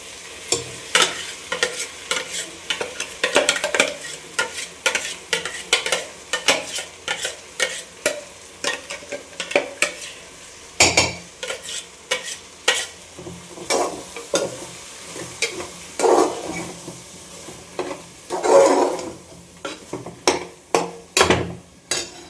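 Masala spices frying in a pan, a steady sizzle broken by repeated scraping and clacking strokes of a spoon stirring, close by and with no voices over it.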